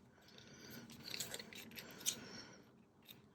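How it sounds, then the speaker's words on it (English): Scissors trimming paper for a junk journal, a few quiet close snips with a soft crisp rustle between them. "so we're going to trim a little bit off this bit here."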